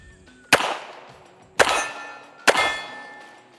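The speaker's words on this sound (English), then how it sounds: "First rounds out of our Savage 1911, 45 ACP, aka the Lord's caliber" Three sharp reports ring out from a Savage 1911 pistol chambered in .45 ACP. Each crack is loud and followed by a ringing metallic decay, and the shots come about a second apart with short gaps between them.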